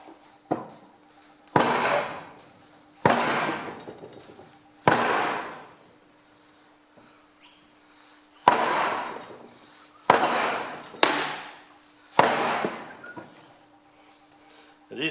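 Wooden block thumped against a Ferguson TE20 tractor hydraulic lift cover during dismantling: about eight sharp, loud, hollow-ringing knocks at irregular intervals, each fading quickly, in a quiet workshop.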